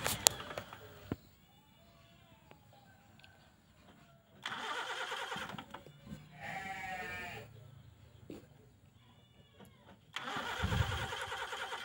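A car engine converted to run on a 3 kg LPG gas cylinder cranks and catches in several bursts, separated by quieter gaps with faint ticking, then roars up loudly near the end.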